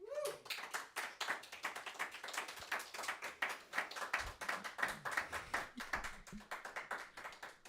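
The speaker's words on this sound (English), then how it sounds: "Jose was clapping on the Zoom" One person claps over a Zoom call in quick, even, sharp slaps that keep going steadily for several seconds, close to the microphone and moderately loud.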